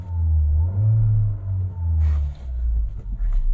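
A Mahindra XUV700 engine starts and settles into a low, steady rumble, close by, with a few small clicks and knocks near the end.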